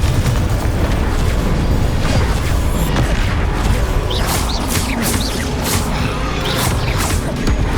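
Confringo fire spell explosions in the Hogwarts Legacy video game, a dense, loud barrage of booming blasts and crackling bursts over continuous game noise, with several sharp impacts in the second half.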